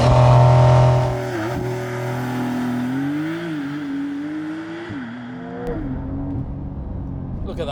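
A rear-wheel-drive Porsche 911 GTS makes a launch-control start in Sport Plus, its loud engine note climbing through rising pitch sweeps broken by quick gear shifts, then fading as the car pulls away.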